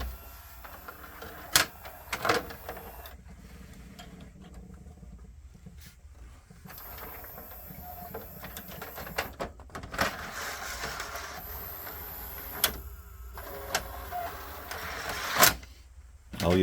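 An RCA CED videodisc player draws in a disc with mechanical clicks, clunks and whirring bursts scattered over a low hum, close and moderately loud.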